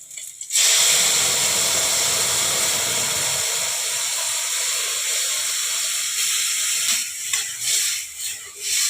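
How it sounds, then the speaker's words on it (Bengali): Red lentils for bitter dal with bitter gourd and bottle gourd land in a hot pot, setting off a loud, steady steam hiss that holds for several seconds before thinning into softer sizzling. "এবারে আমি ডালগুলো ঢেলে দেবো।"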